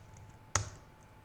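A single sharp keystroke tap on a computer keyboard while entering an npm install command for a NodeJS module, brief and fairly close in an otherwise quiet room.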